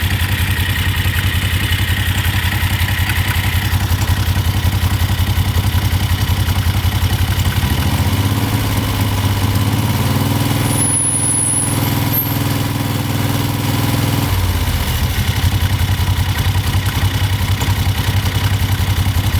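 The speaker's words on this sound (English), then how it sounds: "I want to rev it up so you guys can see that clutch engage." A Jeep powered by a Predator engine sits in neutral and is revved: a steady idle climbs into a louder, sustained rev for several seconds as the clutch engages, then drops back to idle, loud and close.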